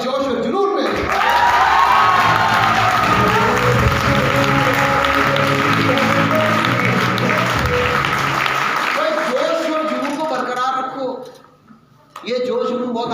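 Loud, sustained applause and cheering from a seminar audience in Sagar, a dense roar of clapping with whoops that holds for several seconds, dies away, then gives way to a speaking voice.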